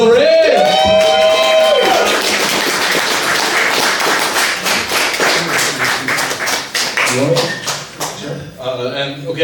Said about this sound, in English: everyone give a big round of applause for Will Ray